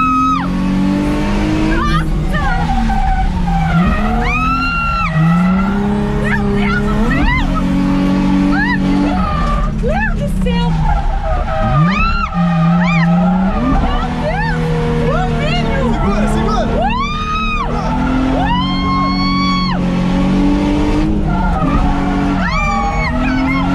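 A car drifting around a race track, its engine revving loudly and repeatedly rising and falling in pitch, with tires skidding underneath and excited voices talking throughout.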